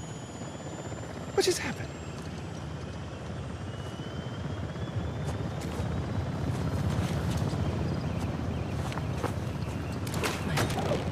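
A helicopter in Uncharted: The Lost Legacy produces a steady rotor roar that swells gradually, with speech heard over it.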